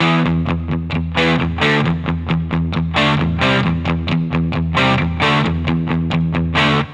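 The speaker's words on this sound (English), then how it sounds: "When you're playing an electric guitar part, often with distortion, you have to incorporate palm muting" A heavily distorted electric guitar plays sustained chords that ring into each other, loud and smeared, with no muted chugging.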